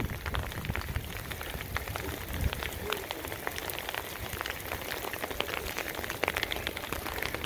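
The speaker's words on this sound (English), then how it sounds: "it starts to rain, but we're in Scotland" Steady rain falls outdoors in Scotland, a dense, even hiss with scattered drop patters throughout, close and continuous with no voices.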